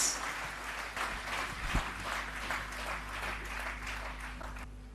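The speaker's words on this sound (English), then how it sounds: "with a big round of applause, let's welcome Mr. Lenart to address the gathering" Audience applause welcoming a speaker to address a gathering, a dense steady wash of many hands clapping that holds for the full five seconds at fairly even loudness, with no talk over it.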